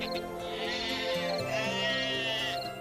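A sheep bleats loudly and close, one long wavering call drawn out over a couple of seconds with no talking over it.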